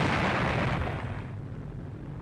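A bomb blast from a planted bomb in a map room erupts as a heavy, deep roaring boom that fills the space, then slowly rolls off into a long, fading rumble with no voices.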